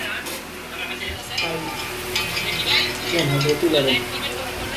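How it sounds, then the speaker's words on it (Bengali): Onions sizzle steadily in a pan with stirring scrapes, while a person talks over it. "পেঁয়াজ ভাজা হচ্ছে"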